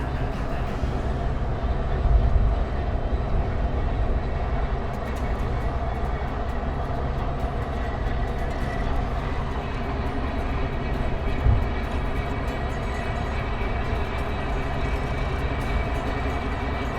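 Union Pacific 4014 Big Boy steam locomotive rolls through a desert canyon, a loud, steady rumble with a constant roar that holds unbroken throughout, with no speech.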